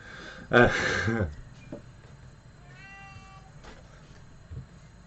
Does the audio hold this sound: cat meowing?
yes